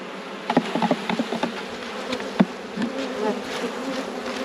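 Bees buzz steadily around an open beehive during an inspection, a dense close hum with louder individual bees passing near and occasional knocks of a frame being handled.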